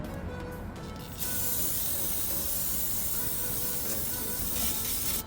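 Brake cleaner is sprayed onto a rear brake rotor from a Toyota C-HR. A short burst is followed by a loud, continuous close hiss of aerosol spray that lasts about four seconds.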